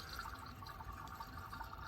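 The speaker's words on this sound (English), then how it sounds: "let's go and throw some engine flush in this thing and do an oil change. Liqui Moly engine flush plus" Liqui Moly Engine Flush Plus poured into the engine of a Volkswagen Eos during an oil change, a faint, steady liquid trickle with no voices.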